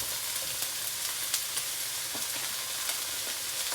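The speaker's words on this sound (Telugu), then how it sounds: "4 ఆనియన్స్ ఇలా కట్ చేసుకొని ఫ్రై చేసుకోవాలి" Sliced onions fry in oil left in the pan after cooking bitter gourd, a dense continuous sizzle with faint crackles and pops, close and even throughout.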